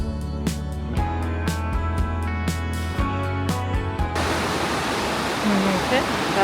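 Music with plucked notes plays first, then gives way to the steady, broadband rush of a river flowing past a vacation house near Sequoia National Park, close and continuous.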